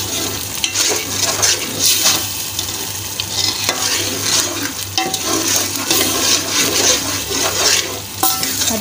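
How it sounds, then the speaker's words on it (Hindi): Minced meat frying with spices and ghee in a pan for a keema and green beans dish, a steady close sizzle with scraping stir sounds throughout. "अभी इसके अंदर जब कीमा डालेंगे और फिर भूनेंगे कीमा डाल के।"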